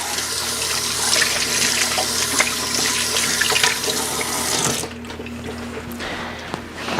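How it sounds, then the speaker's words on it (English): Water runs steadily from a kitchen tap as hands are rinsed during holiday cookie baking, a close, continuous splashing rush that cuts off abruptly near the end, leaving quieter room noise. "I'm gonna rinse off my hands."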